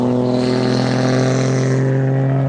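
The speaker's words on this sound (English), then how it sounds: "it's a noisy one. You can hear it. That's a truck." A loud truck rumbles close by at a 2025 rod run, its engine a steady, throaty drone that holds and then eases slightly as it passes, with no talking over it.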